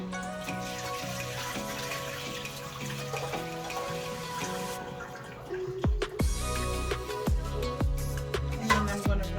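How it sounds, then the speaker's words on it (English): Hot water is poured out of a pot of boiled eggs, splashing and gurgling into a sink over a steady background of music or hum, becoming louder and more broken in the second half. "So I'm going to dump the hot water out."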